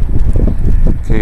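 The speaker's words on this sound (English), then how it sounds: "it's a windy day out here in Landers." Wind gusting on a blustery day in Landers, California, buffeting the microphone with loud low rumble in a brief burst, and a voice starts to speak at the end.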